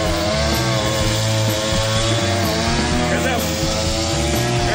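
A petrol grass trimmer cutting grass at a riverside camp, a loud, steady whining engine drone held throughout at close range, with a voice talking over it.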